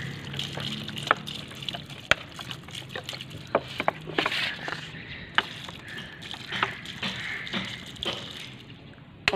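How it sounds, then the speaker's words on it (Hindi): Water pours from a bottle onto potted plants, a close trickling, splashing stream with uneven gurgles and soft drips running for several seconds, with no talking. "अभी गाइस ये पानी की बोतल हमने डाली है पौधों में।"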